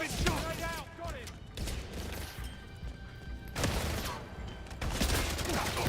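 Gunfire in the video game 007 First Light comes as bursts of cracks and crashing impacts. Busy, dense clatter fills gaps between quieter stretches, with voices heard in the mix.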